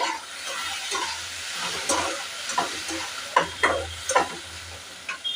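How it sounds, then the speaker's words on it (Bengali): Ginger garlic paste sizzles in a pan during preparation of a Korean-style chicken dish, with a quiet fry under repeated scraping and stirring strokes that grow sharper toward the end. "প্রায় দুই চা চামচের মতো আদা রসুন পেস্ট এগুলোকে একটু নেড়ে"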